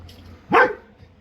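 A single close, sharp dog bark at a farm gate build, brief and clear against a quiet background.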